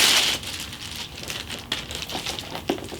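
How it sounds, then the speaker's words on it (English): Plastic wrap crinkles and rustles as it is peeled off the straps of a new MCM mini handbag, soft, close crackling bursts in quiet surroundings. "I'm gonna take the plastic off the straps"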